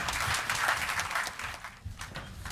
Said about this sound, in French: Allez on l'applaudit, on l'encourage à venir sur scène.